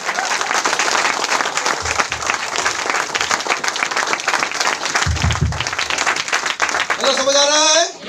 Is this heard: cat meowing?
no